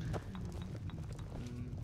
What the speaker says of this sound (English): Beware, beware, the black horse comes.